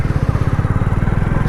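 A motorcycle engine in first gear after downshifting chugs at a steady, loud, close idle with an even rapid pulse, and no talking is heard.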